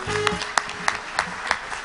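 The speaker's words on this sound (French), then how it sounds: "On peut l'applaudir." A conference audience applauds a guest coming on stage, with a few sharp, loud claps standing out near the microphone over softer clapping and a faint tone at the start.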